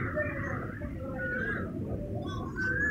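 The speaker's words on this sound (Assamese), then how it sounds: "কুলি এজনী মাত এতিয়াহে শুনিছোঁ।" An Asian koel calls at dusk outside a restaurant, its rising whistled notes repeating at moderate distance over a constant low murmur of the surroundings.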